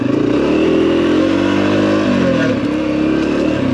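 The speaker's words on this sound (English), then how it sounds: "That is a Honda 300 Rally that I really enjoy riding" Honda 300 Rally dual-sport motorcycle engine running loud and close, holding a steady drone with a rise in revs around the middle before settling, no talk over it.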